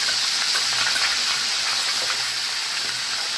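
Pieces of fish frying in hot oil give off a steady, dense sizzling hiss that runs unbroken throughout, close and even in level, with no voices.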